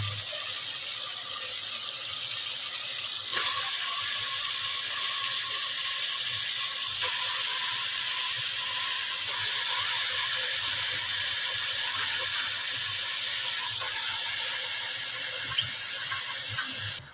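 A steady stream of water pours into a cooking pan holding fenugreek and spinach, running continuously for several seconds, close and even, a bright splashing hiss with occasional faint clinks.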